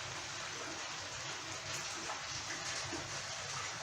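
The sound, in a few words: rain falling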